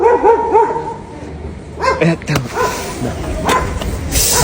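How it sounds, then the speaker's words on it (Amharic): Dogs bark in short bursts nearby, several sharp barks at first and more later, with people talking and background noise. "ውሾች እየጮሁ ነው።"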